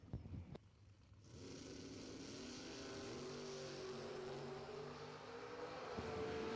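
A small block Mopar-powered drag race car engine builds from a sharp opening burst into a sustained, rising drone with a steady pitch climb, loud and continuous at a race track.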